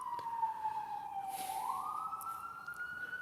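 Emergency vehicle siren wailing through New York City streets, one steady sweeping tone that dips and climbs again, moderately distant, with low traffic rumble underneath.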